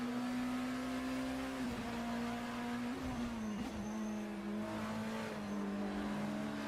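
BMW race car in a sim-racing esports event at Interlagos, a steady engine drone holding pitch with small dips as it shifts, fairly faint and without commentary over it.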